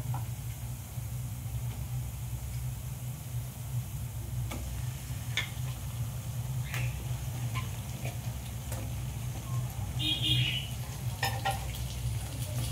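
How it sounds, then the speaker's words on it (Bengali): Chicken pieces fry in a pan with already-browned onions for a chicken capsicum dish, giving a steady, even sizzle with occasional light clicks from stirring and no voices. "এবার আমি চিকেনটা এখানে দিয়ে দেব।"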